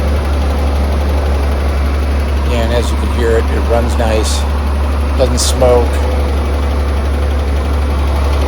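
A 1963 Chevrolet Corvair Monza 900 Convertible engine idling with a steady, even low rumble that holds constant throughout, while someone talks briefly over it.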